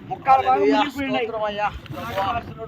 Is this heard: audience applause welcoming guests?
no